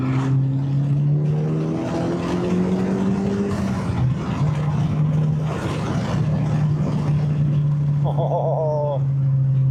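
A 2023 Honda Civic Type R engine pulls steadily under way on a road, its loud sustained drone holding nearly level throughout with a brief dip midway, up close from inside the car.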